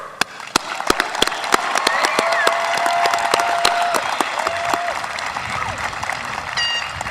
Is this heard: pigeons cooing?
no